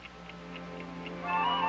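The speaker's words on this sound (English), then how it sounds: "Do you hear anything? Like ticking?" Faint, evenly spaced ticking in a quiet room in a sitcom, about four light clicks per second over a soft background hum.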